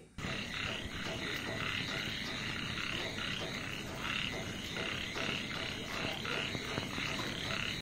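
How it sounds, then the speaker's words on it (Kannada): Many frogs croak in a dense, continuous chorus on a windy, rainy night, with overlapping rhythmic calls close by. "ಇದೆಲ್ಲ ಕಪ್ಪೆ ಕೂಗೋ ಶಬ್ದಗಳು"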